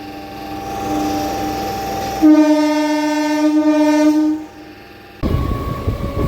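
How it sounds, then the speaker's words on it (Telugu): A MEMU train's horn blows a long, loud, steady harmonic blast for about two seconds, standing out over the rumble of the moving train. "బ్యూటిఫుల్ హార్న్ కొట్టు"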